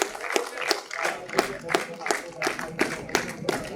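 Hands clap in a steady, evenly spaced rhythm at an RINL National Safety Day celebration, a sparse run of distinct claps repeating about three times a second with voices murmuring beneath.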